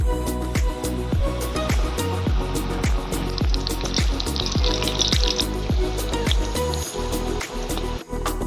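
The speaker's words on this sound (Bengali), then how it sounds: "লঙ্কার চপ ভাজা একদম কমপ্লিট" Chillies coated in gram flour batter crackle in hot oil while regular, rhythmic metallic taps and clatter sound close by throughout.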